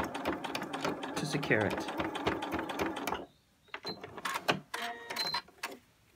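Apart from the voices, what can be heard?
sewing machine sewing a reverse stitch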